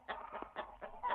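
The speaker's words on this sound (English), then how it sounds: "The birds startled again and let Jack know they were not happy, with more quacking, clucking, and cock-a-doodling." Chickens in a farmyard coop cluck in short, repeated bursts, several separate squawky calls close by over a second, with no talk.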